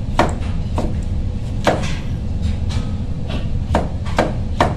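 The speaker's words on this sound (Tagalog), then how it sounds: "Slicing mo yung carrots. Slicing mo ng pinong-pino." A sharp knife slices carrots finely on a chopping board, tapping in a steady series of close, distinct knocks against the board over a constant background hum.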